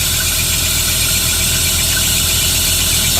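Vehicle engine idling loud and close, a steady rough drone with a faint squeal and vibration running throughout, no voices.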